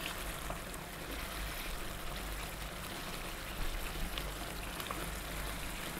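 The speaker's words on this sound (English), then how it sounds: "I'm gonna put the heat on low now, really quite low, nice simmer." Lamb biryani curry simmering on low heat in a pot gives a soft, steady bubbling hiss that stays quiet and even throughout, with no one talking.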